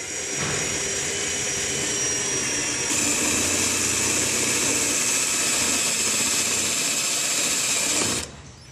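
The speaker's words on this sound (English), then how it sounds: "Jason's going to start by drilling some 5/8 inch holes for the battery cable" A power drill whines steadily for several seconds drilling 5/8 inch holes in a car body, its pitch stepping up partway through before it cuts off abruptly.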